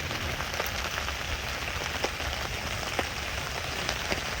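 Steady rain falling at a winter wild camp, a dense continuous hiss of drops with occasional sharper nearby drips, no voices.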